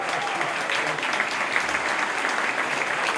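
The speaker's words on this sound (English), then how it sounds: "ladies and gentlemen, give her a round of applause" Outdoor crowd applause at the 2013 Cavan senior Gaelic football final between Ballinagh and Cavan Gaels, a steady, dense wash of clapping that holds loud and even throughout.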